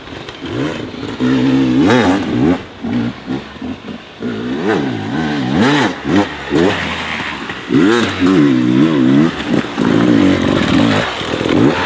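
A Beta RR300 X-Pro two-stroke dirt bike is revved hard in repeated sharp blips, its engine note rising and falling close up, with talk mixed in between the bursts.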